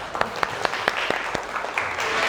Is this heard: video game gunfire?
no